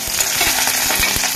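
Chopped onions hitting hot oil in a pan, a loud, dense sizzle with faint rhythmic stirring scrapes underneath.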